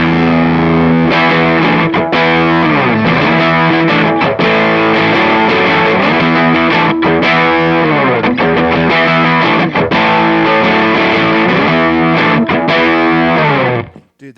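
Electric guitar driven through an Obsidian fuzz pedal with the TBX tone control rolled off, playing a dense, saturated classic-rock riff continuously at high volume before cutting off at the end.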